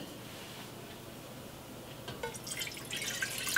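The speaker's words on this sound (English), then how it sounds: "We'll add the 5 cups of water" Water poured into a pot of rice that has soaked in cold salted water, for mujadara. A quiet start grows into a louder, bright, rushing splash over the last second or so, with no talk.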